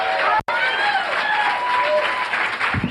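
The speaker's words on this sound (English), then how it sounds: "Let's have a nice round of applause from Sonoma County" Close, loud applause and cheering from a comedy show audience greeting a comedian at a comedy competition, dense clapping with a brief cut near the start and voices mixed in.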